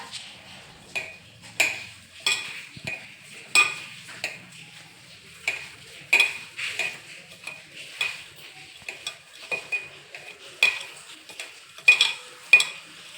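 A spoon mixes soybean in a pan, making irregular scraping clicks and taps against the metal, close and fairly crisp, with no talking.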